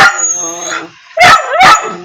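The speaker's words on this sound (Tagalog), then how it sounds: "Habang nagkakapi ako, may nagdadrama ang aso nito." A dog indoors whines in a rising, wavering tone, pauses, then lets out two loud, close barks in quick succession.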